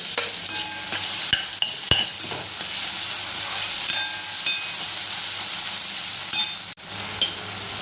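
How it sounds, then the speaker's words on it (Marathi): Tomatoes added to sautéed onions and curry leaves, stirred and frying in a pan for idli fry, a steady close sizzle with repeated scraping and clinking strokes of the spoon, no talk. "कांदा छान परतून झाला की त्याच्यामध्ये टोमॅटो टाकून घ्यायचा आहे"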